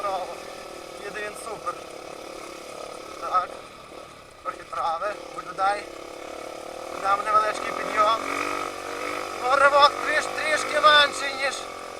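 A 2023 Kovi Advance 250 motorcycle engine while riding, its hum rising and falling in pitch as the throttle changes, with a voice talking over the engine throughout.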